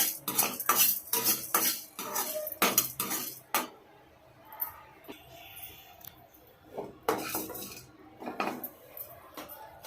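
Chana dal dry-roasts in a pan on low heat, with rapid, repeated scraping and clattering of a metal spoon against the pan that comes in close bursts, pauses briefly, then picks up again.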